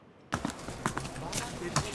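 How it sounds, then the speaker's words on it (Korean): Hooves of donkeys clip-clop in an uneven rhythm on a Himalayan trekking trail on the Annapurna route, close and fairly clear, with voices talking over them. "지쳐서 내려오는 당나귀를 응원하며"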